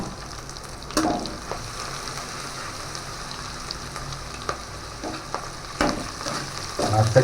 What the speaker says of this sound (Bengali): রসুনটা দিয়ে এবার এটাকে একটু ভালো করে একটু কষে নেবো